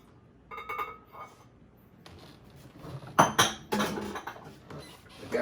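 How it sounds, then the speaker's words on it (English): Two eggs go into a cup of milk in a glass beaker, giving sharp clinks and taps of shell against glass, a few close knocks then a busier cluster of clatter near the end, with no talking. "And I'm going to add 2 eggs."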